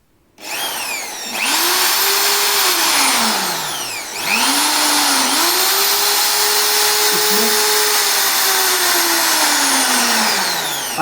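An IBELL 13mm impact drill whines loudly up to full speed, holds a steady high motor drone, then dips and ramps back up as the trigger is eased and pressed again, close and with no talk.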